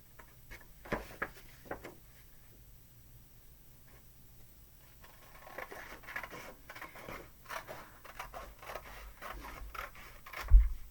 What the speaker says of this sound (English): So let's grab our scissors again and let's cut on the guideline.